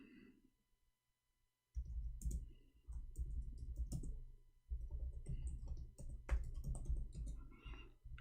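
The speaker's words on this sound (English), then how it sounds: "I'm typing in Arabic all this time" Rapid clicking keystrokes on a computer keyboard, close and fairly quiet, starting after a brief pause and continuing in irregular bursts with short gaps.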